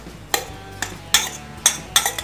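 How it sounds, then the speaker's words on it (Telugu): Fresh coconut being stirred into a little millet puttu mix, giving a few sharp clinks and scrapes of a utensil against the bowl, spaced irregularly and close by with no talk. "ఇలా బాగా మిక్స్ చేసుకున్న తర్వాత పచ్చి కొబ్బరిని దీంట్లో వేసి మిక్స్ చేసుకోవాలి."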